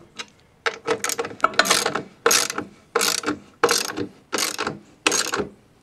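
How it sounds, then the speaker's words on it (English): A ratchet snugs down the 1.25 by 40 mm rear mounting bolts for a top box on a Honda NT700V motorcycle, giving about eight short bursts of close, dry clicking separated by brief pauses, with no talk. "now we'll get these two rearward bolts kind of snugged down good"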